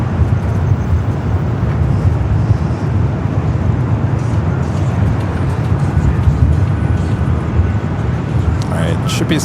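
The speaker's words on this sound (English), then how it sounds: "should be seeing that A380 Super. It is now heading up here" An Airbus A380 airliner passes overhead at LAX, a loud, steady broadband jet roar that holds continuously, with a voice speaking faintly underneath.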